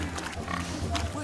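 Pig squeals from The Witcher 3 video game, shrill and continuous through the moment, mixed with other game voices and background sound.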